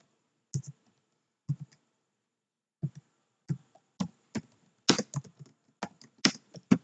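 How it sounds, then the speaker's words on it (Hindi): Close, crisp key taps on a computer keyboard while entering data in a Microsoft Excel spreadsheet, starting as sparse single presses and quickening into a steady run of typing. "अब यहाँ पर आप टाइप कर देंगे"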